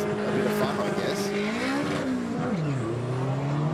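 At a drag strip, a Honda Civic hatchback races a BMW, engines revving loudly and rising and falling in pitch as the cars pass, with a commentator's voice underneath.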